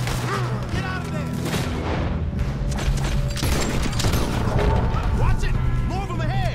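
Gunfire from a Red Dead Redemption shootout: dense bursts of shots and crashing impacts run nonstop over a loud, busy battle mix, with voices shouting in the background.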